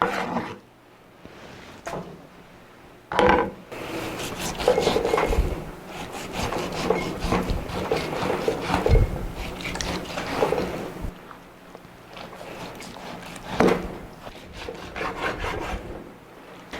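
A knife slices meat lengthwise on a cutting board for royal tteokbokki, giving scraping, rubbing strokes and soft knocks in an uneven rhythm close by, with quieter pauses between bursts.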